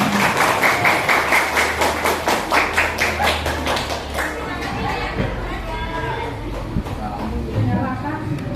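A group claps in unison at a Scout (Pramuka) gathering, with strong rhythmic claps during the first four seconds and then looser clapping under crowd chatter and talking.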